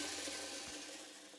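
Steady rushing water pours into a large pot being filled for canning pickled beets, a continuous broadband gush at moderate distance with no voices.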